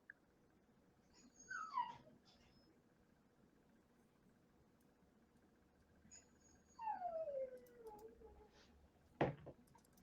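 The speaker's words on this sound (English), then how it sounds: "Sounds like your pup wants to get on the Magic action." A pet dog whimpers and yips during a Magic: The Gathering tournament broadcast: two drawn-out, falling whines a few seconds apart, then a short sharp yelp, all faint against a quiet room with no talk.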